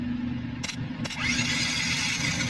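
A motorcycle engine cranks and catches, settling into a steady mid-pitched running sound after a couple of brief starter bursts; no one talks over it.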